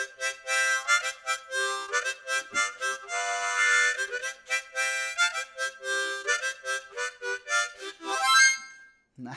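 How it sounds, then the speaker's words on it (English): A harmonica plays a bouncy tune of short repeated blown and drawn notes with a few longer held chords, clear and close with no voices, ending in a rising run. "and maybe you've never seen a harmonica before or heard one."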